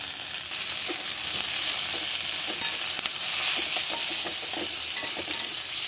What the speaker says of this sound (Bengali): মশলাটা পুরো ভিন্ডিটার সঙ্গে ভালো করে মিশিয়ে নেব